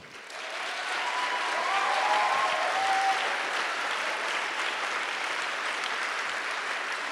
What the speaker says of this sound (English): How about a hand applause?